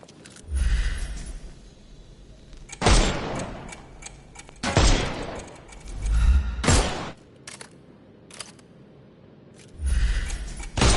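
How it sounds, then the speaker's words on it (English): Bursts of gunfire from the video game Sherlock Holmes Chapter One, with volleys of shots fired to strip armour off enemies. The loud, sharp clusters come in separate salvos a few seconds apart, with quieter game sounds in the gaps. "Shoot off their armour."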